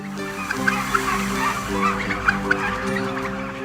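Turkeys on a farm in a frosty-morning paddock gobble and cluck in a flock, with several overlapping warbling calls and a few sharper peaks rising from a steady, close chorus.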